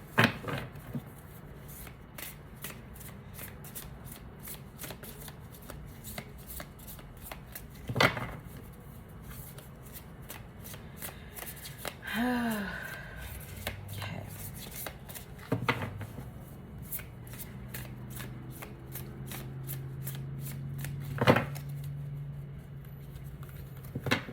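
A deck of tarot cards is shuffled by hand for a Celtic Cross reading, giving soft, repeated riffling and patting close by in a quiet room with no talking.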